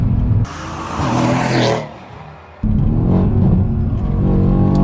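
A Mercedes-AMG C63S coupe making about 530 wheel horsepower accelerates hard, its engine roaring loud and close, dropping briefly during a gear change and then surging back up.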